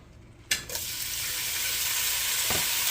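Beef hits hot oil in a pan with a sudden burst of sizzle that settles into a steady, close frying hiss, with a brief stir partway through.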